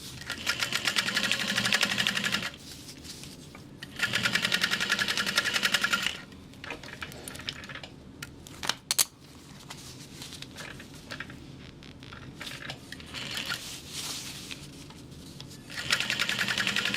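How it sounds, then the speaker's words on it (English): A sewing machine top stitches the sides of a crossbody bag in several bursts of rapid, steady mechanical whirring, broken by short quieter pauses; the machine sounds close and loud, with no talking. "we'll open that up and top stitch the sides"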